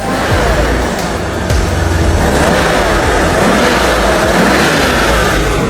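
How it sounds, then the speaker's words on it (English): A 1991 BMW 850i V12 engine runs loud and close after a part replacement, its pitch surging and falling as it revs repeatedly. "The engine roars to life again"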